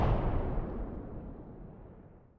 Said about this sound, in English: An explosion erupts and encases the alleyway with fire and smoke.